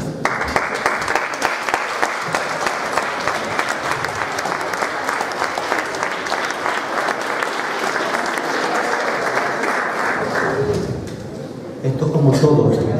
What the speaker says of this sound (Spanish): pido un fuerte aplauso para muchos de ellos que se atreven a subir